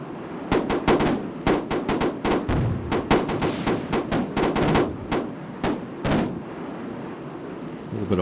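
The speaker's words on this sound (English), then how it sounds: "A little bit of flak coming up." Anti-aircraft flak in the Strike Fighters 2: Vietnam flight game, a rapid, uneven series of sharp booming bursts over a steady engine drone, loud and close.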